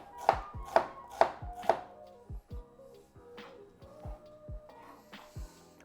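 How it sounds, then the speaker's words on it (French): Knife chopping an onion on a cutting board: four crisp, evenly spaced cuts up close, then slower, softer chops with faint kitchen clatter and no talk. "Pendant qu'on coupe l'oignon"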